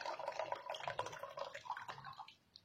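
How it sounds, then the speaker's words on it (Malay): Warm or hot water poured into a glass, a soft splashing trickle with small drips, fairly quiet and close, fading near the end. "Mula kita masukkan air suam atau air panas ke dalam gelas."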